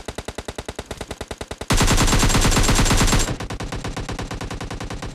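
Rapid PUBG Lite gunfire: bursts of automatic shots, then a dense sustained volley, then another steady rattling burst, loud and close.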